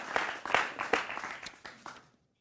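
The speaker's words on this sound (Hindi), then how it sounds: "जोरदार तालियां उनके लिए" A studio audience at a televised debate show claps in a brief, uneven burst of separate hand claps that thins out and stops after about two seconds.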